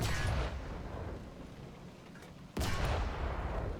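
In the tank video game, artillery fires at a light tank: two heavy, distant booms, one at the start and one after a long rumbling pause, each trailing off in a rolling echo.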